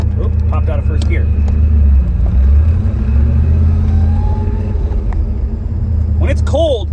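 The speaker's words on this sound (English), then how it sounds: "Ooh, that power steering is loud." A Pontiac Trans Am driving, its low engine rumble constant and close from inside the cabin, with a faint whine from loud power steering rising midway; a person talks over it.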